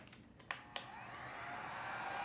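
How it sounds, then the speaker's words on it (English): A heat gun blows hot air to dry a watercolor painting, a steady broadband whoosh that swells gradually after a couple of sharp clicks as it switches on. "But we are going to take up our heat gun."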